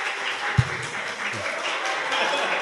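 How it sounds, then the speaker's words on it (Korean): An audience applauds a Democratic Party supreme council candidate at a Korean talk show taping, a steady dense patter of clapping with one sharper close clap near the start. "자, 박수 시간입니다."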